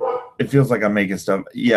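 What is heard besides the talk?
dog barking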